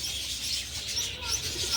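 Racing pigeons arriving at a loft during a two-lap fun race, with bird calls and cooing over a steady outdoor hiss; brief and fairly clear.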